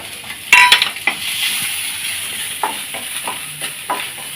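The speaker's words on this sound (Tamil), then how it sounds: "இந்த எடுத்து விட்ட இந்த பச்சை தேங்காயும் ஒரு வறுத்துக்கணும்." Fresh grated coconut roasts in a pan with a light sizzle under close spatula scrapes and metallic clinks against the pan, a few louder knocks scattered through.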